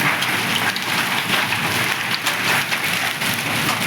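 Hailstones pelt down with heavy rain over a village in Ganjam district, Odisha, making a loud, continuous hiss with scattered sharp impacts throughout.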